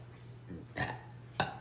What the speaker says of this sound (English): I just made a statement and I burped.